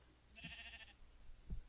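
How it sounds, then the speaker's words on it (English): A sheep in the video game Minecraft gives one bleat, quiet but clear, followed by a soft thump against a low background. "Hey, look, it's Sheep Bob the Builder"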